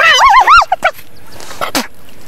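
Chickens cluck and squawk in a loud, close burst of rising and falling calls, then fall quiet with a few softer sounds after.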